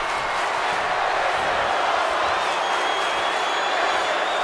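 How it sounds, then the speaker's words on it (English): A wrestling crowd at the Hard Rock Stadium cheers and chants, a loud, unbroken roar of many voices filling the arena throughout. "Listen to the excitement from the crowd here at the Hard Rock Stadium chanting, "This is awesome!""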